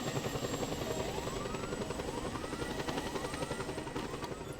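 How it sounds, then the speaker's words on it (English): A video game helicopter hovers nearby, its rotor beating in a steady rapid chop under a whining engine tone, continuous and moderately loud with no talking. "There's a helicopter behind me."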